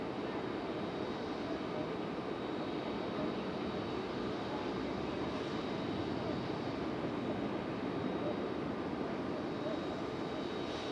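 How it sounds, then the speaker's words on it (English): Frontier Airlines jet departing Raleigh-Durham International Airport, a steady, broad, fairly distant engine roar that holds evenly throughout, with a voice faintly present. "There goes Frontier Airlines headed out"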